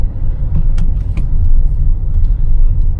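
A manual car rolls through traffic, its engine a steady low rumble heard from inside the cabin, with faint clicks and small knocks over the drone.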